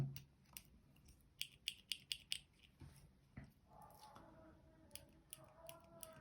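A Caran d'Ache 844 mechanical pencil mechanism clicks in quick sharp bursts, a run of crisp snaps near and quiet, followed by softer scattered clicks and faint handling.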